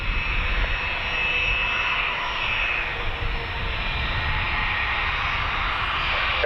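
Heavy jet airliner taking off from Dublin Airport runway 28 right, a steady, loud broadband engine roar holding constant throughout with no talk over it.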